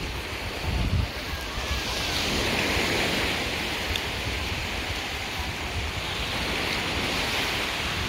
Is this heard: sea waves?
yes